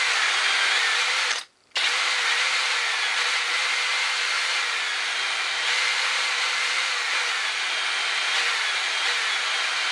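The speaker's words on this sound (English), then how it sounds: "we'll give the valves a bit of a clean" A power tool runs steadily and loudly on a Lister D engine's valves during cleaning, a continuous whirring drone with one brief cutout near the start.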